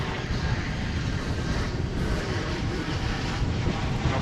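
An airliner arriving from Puerto Vallarta, Mexico, at Dallas/Fort Worth Airport gives a steady broadband roar of jet engine noise mixed with wind buffeting on the microphone, loud and continuous for the whole stretch.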